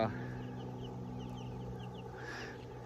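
Chickens cluck on a farm flock of around two dozen, a close, steady chorus of soft clucks and chatter with a slightly louder call near the end.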